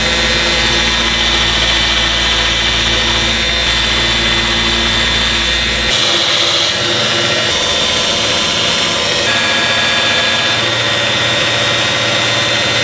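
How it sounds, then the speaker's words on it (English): A belt grinder grinds a knife blade sideways to square its shoulders, a loud steady whine and hiss that runs unbroken, with its pitch and grit shifting slightly as the steel is pressed to the belt. "I'll go sideways on the belt grinder and cut in that shoulder, sideways on the other side, and then I'll come up and grind it flush on either side."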